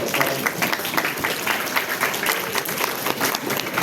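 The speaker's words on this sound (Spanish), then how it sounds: "Aplausos, recibimos un aplauso." Audience applause during a lecture session, a short burst of lively, uneven clapping from a group of listeners with a few distinct louder claps standing out.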